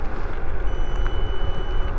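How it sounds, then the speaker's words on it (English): Short electronic beep from a Circooter Landturbo Pro electric scooter signalling that cruise control has engaged after the thumb throttle is held, a thin tone over steady low motor and road noise. "if I hold down the throttle for, I believe it's about 5 seconds, we'll hear this beep."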